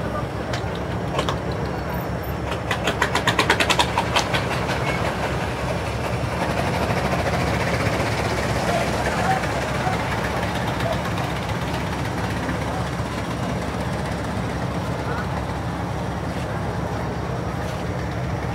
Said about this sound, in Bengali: লঞ্চ ছেড়ে যাওয়ার কথা 8:35, 1 মিনিট আগে, মানে 8:34-এ ছেড়ে দিল চাঁদপুরের উদ্দেশ্যে।